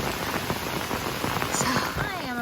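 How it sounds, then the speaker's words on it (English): Heavy torrential rain pours down in a dense, continuous hiss on a flooded hiking trail along the Chattooga, drops pattering hard on nearby surfaces. "Every once in a while, it's like this crazy torrential downpour."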